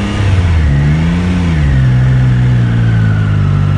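A Triumph 660 Daytona motorcycle engine pulls loud and close, its tone rising then settling into a steady drone as the rider works the clutch on a first ride.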